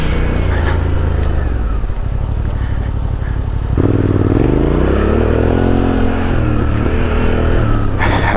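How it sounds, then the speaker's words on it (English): A Suzuki V-Strom motorcycle ridden off-road on a dirt trail, its engine droning steadily and loudly throughout, with the pitch rising and falling as the rider works the throttle. "But now I'm riding the Vstrom again."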